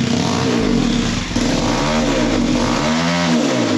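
Kawasaki KLX140RF mini enduro bike with a 170cc big bore engine and BBR D3 exhaust, revved hard in loud, close bursts, with the pitch swinging up and down repeatedly and no talk over it.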